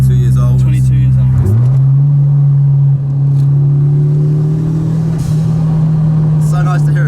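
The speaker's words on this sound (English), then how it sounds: "It's so nice to hear a dump valve" A Fiat Uno Turbo engine, 22 years old, idles loudly up close, then a sharp whoosh from the turbo dump valve cuts in as the revs settle to a steady drone.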